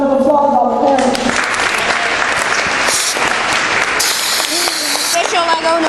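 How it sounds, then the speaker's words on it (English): Audience applause for parents at a Lego dry ice engine demonstration, sustained loud clapping filling the room, with a voice and a whistle-like tone briefly over it. "let's give a big round of applause to all the parents."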